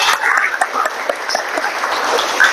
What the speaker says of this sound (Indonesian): Tepuk tangan untuk kita semua lagi